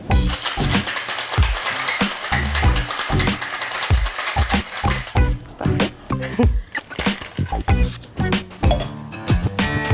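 Ice rattles in a cocktail shaker while a Canadian Pisco cocktail is mixed. Quick rhythmic clattering bursts repeat steadily up close for about ten seconds, with a brief murmur of voices.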